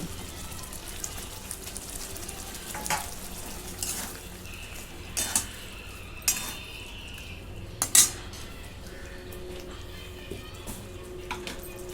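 A spoon mixes fried bitter gourd with jaggery and spices in a pan, giving sparse, faint metal clinks and scrapes over a quiet, low background.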